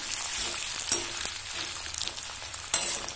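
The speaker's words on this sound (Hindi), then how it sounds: "आलू अगर कच्चे हैं तो थोड़ा सा उनको ब्राउन कर लें" Raw potatoes browning in hot oil in a pan for a pumpkin leaf and stalk saag curry, giving a steady close sizzle and crackle with occasional stirring scrapes, no voices.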